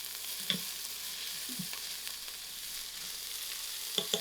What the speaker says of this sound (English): I'll allow this to fry for about 3 minutes